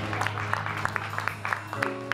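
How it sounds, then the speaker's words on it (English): A church congregation clapping in praise at a worship service, with many hands beating in a roughly steady rhythm under a sustained background of voices and music. "Let's give God a hand clap of praise for that."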